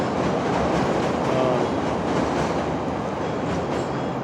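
A train rolls past close by in Chicago, a loud, steady rumble of wheels on rails with faint clatter and a brief squeal, continuous and unbroken with no talking.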